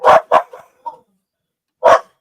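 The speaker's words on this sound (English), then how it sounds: "Why are they barking?" Dogs bark in a quick burst of three sharp, loud barks, then a softer yip, a pause, and one more bark close by, heard during a podcast call.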